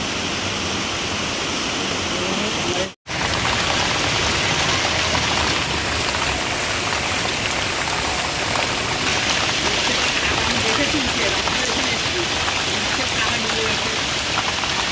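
Heavy rain pours down during flooding in Durgapur, a dense, unbroken roaring hiss that fills the whole stretch apart from a momentary cut early on.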